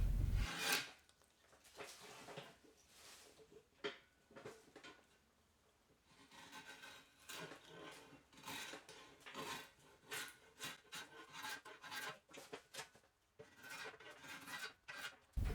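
A draw knife rips down the corners of an Osage orange bow limb in close, repeated rasping strokes. The wood scrapes in an uneven rhythm of short shaving bursts, with a brief pause partway through.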